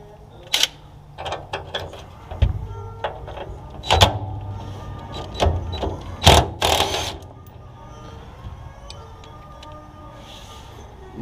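Bolts being worked loose on the bed of an EZGO golf cart during repair, with irregular metallic clicks, ratcheting and clanks close by, spaced over several seconds, then a quieter mechanical hum.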